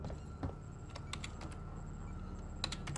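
Keys clack on a computer keyboard in a quiet room, with irregular bursts of soft, close taps over a low steady hum.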